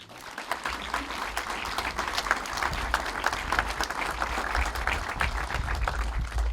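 Sustained applause from an audience at the opening ceremony of a restored farmstead in Savci, Sveti Tomaž, dense steady clapping that fills the room for several seconds with no speech over it.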